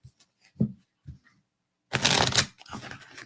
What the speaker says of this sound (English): I'm gonna have to sit here and just shuffle cards